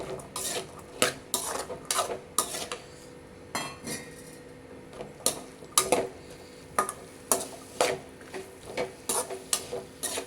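Chickpea sundal stirred into fried masala in a pan for street-cart style masala sundal: a steady run of sharp metal spoon scrapes and clinks against the pan, close and fairly loud, with a faint sizzle between strokes and no talking.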